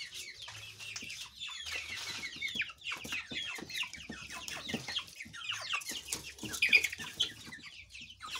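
A young rooster, a prospective breeding cock from a farm brood, clucks repeatedly in short, irregular bursts, fairly quiet and close, with other soft fowl chatter around it.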